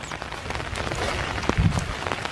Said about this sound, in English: As peaceful as it is hiking in the rain, I'm surprised more people don't do it.